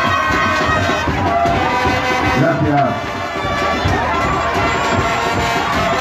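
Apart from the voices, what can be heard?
audience applause and cheering for a pageant candidate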